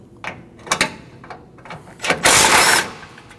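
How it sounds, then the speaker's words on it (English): A power ratchet or impact tool removes the 8mm bolt holding the horn on a 2012-2021 Nissan NV2500 5.6L V8 during radiator replacement, with several short loud bursts followed by a longer close whirring run. "Now you need to remove your 8mm bolt that holds your horn"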